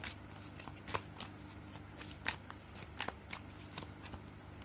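A deck of cards is shuffled in a quiet room, with a series of soft riffling flutters and light slaps at an irregular rhythm, close and faint, with no talking.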